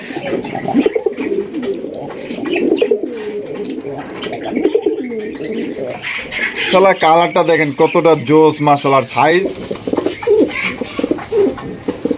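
Pigeons coo in soft repeated bursts, close by, with a voice talking over them throughout.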